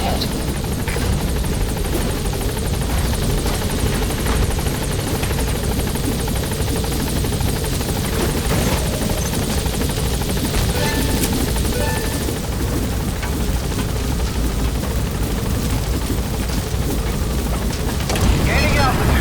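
A support helicopter in Metal Gear Solid V: The Phantom Pain arrives at a landing zone and lifts off, its steady loud rotor roar filling the scene continuously without any break.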